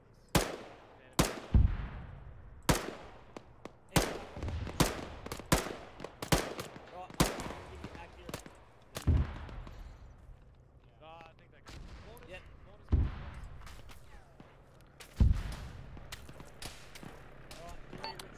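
A DShK heavy machine gun fires in Arma 3, heard as loud, sharp bursts and single booming shots spaced irregularly, with echoing tails between them and voices talking in the background.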